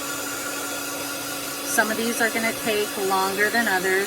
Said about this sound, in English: we take the heat dryer.